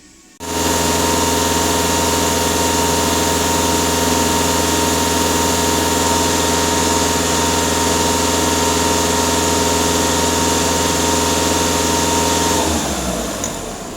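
A VW Passat B6 engine holds steady at raised revs, a constant loud drone with a high whine running throughout, then drops away near the end.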